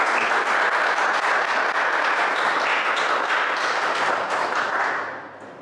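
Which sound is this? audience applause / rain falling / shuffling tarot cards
audience applause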